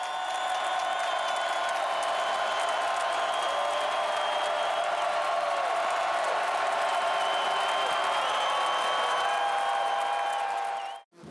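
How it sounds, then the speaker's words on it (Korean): Stadium crowd at a game in New Orleans roaring and cheering continuously, a broad, distant wash of many voices with whistles and tonal calls threaded through, steady for over ten seconds before cutting off. "함성만으로도 열기를 충분히 느낄 수 있었다"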